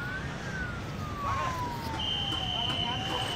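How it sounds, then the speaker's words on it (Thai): An emergency vehicle siren wails in long rising and falling sweeps, moderately distant, over steady street noise at a protest march heading to the Criminal Court in Bangkok. "ได้ยินเสียงรถหวอครับไม่แน่ใจว่าเป็นเสียงรถหวอจากเหตุการณ์อะไรนะครับ"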